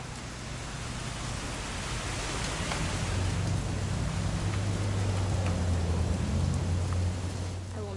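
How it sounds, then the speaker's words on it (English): Steady rain falls throughout a scene in the video game What Remains of Edith Finch, a continuous broadband hiss with a low rumbling hum beneath it, swelling slightly toward the end. "It's gonna rain the whole weekend,"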